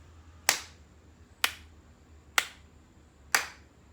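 Four sharp, evenly spaced snaps or claps mark a steady quarter-note beat for rhythm practice, each one crisp and close with quiet gaps between.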